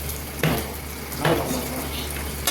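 Fenugreek seeds, cumin and green chili hit hot oil in a kadhai for oil-free moong dal kadhi, giving a steady close sizzle with a couple of sharp bursts as ingredients drop in.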